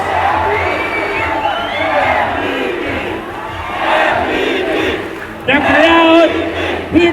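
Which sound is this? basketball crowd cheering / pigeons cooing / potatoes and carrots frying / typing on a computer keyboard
basketball crowd cheering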